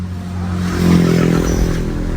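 A Nissan Navara pickup engine, running sluggishly from a fault, catches and revs close by, a loud low rumble that swells and then holds steady.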